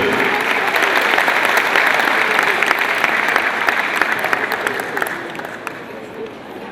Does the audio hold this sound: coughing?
no